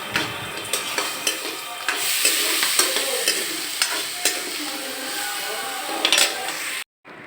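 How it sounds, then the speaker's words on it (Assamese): Rice dry-roasting in a wok over low heat, with a continuous dry rustling sizzle and regular scraping strokes of a spatula, close and fairly loud, with no talk. "চাউলখিনি শুকোৱাৰ পিছত এনেদৰে মই এটা কেৰাহীত কম জুইত ভাজি আছোঁ।"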